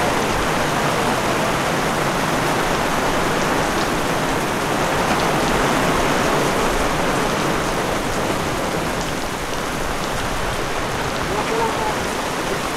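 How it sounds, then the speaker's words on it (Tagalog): Heavy rain pours down steadily, a dense, loud, continuous wash of drops drumming on surfaces with no break, close and enveloping throughout. "Yan na, bumuhos na yung ulan."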